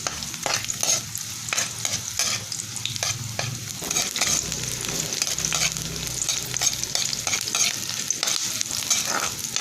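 Garlic and onion sizzle and fry in a pan for humba, a Filipino braised pork dish, with steady crackling and repeated scrapes of a stirring utensil throughout, close and continuous with no talking.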